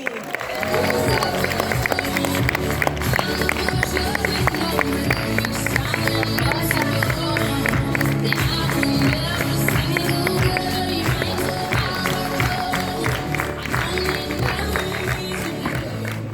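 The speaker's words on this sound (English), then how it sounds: "Please join us, giving a strong round of applause to Mr. Fatemi Ghani" Dense, loud audience applause welcoming Mr. Fatemi Ghani to the stage at the DXN European Leadership Camp in Sitges, a sustained wash of crowd noise with music blended underneath throughout.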